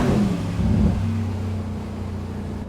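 Steady low engine drone from a 2026 Mercedes-AMG Mythos PureSpeed V8 while driving through a city center, heard from inside the car as a continuous rumble with a brief swell near the start, no talk.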